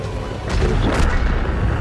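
A tank cannon fires a shaped-charge shell in a tank video game, one heavy booming blast rising midway and rolling on through to the end.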